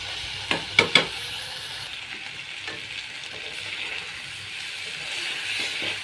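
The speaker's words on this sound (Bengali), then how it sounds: "এবার আমি ধনে পাতা কুচি, কাঁচামরিচ কুচি দিয়ে ভালোভাবে নাড়াচাড়া করে" Fish and long eggplant curry with chopped coriander and green chillies is stirred in a pan, a few sharp utensil knocks early, then a steady low sizzle and scraping throughout.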